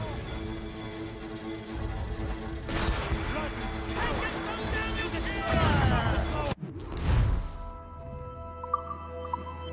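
Ship cannons fire from a sailing vessel in a naval battle in the video game Assassin's Creed Rogue: heavy booming blasts rise over a constant rumbling backdrop, mixed with shouting voices.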